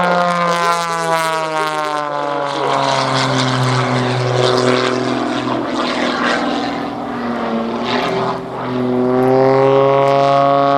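A propeller aircraft climbs at the Oshkosh EAA AirVenture airshow, its loud droning engine holding strong harmonic tones whose pitch bends and shifts as it passes, continuous and close with no talking.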